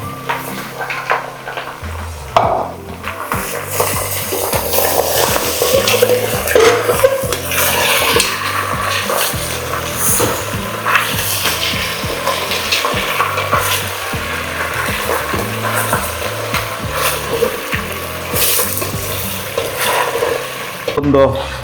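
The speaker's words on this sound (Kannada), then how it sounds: "1 kg ಅಷ್ಟು ನಾಟಿ ಕೋಳಿ ಹಾಕ್ಕೊತಾ ಇದ್ದೀನಿ" About a kilogram of country chicken goes into a pan of fried onions and is stirred. It makes a continuous sizzle with wooden-spoon scraping and pan clatter, all under steady background music.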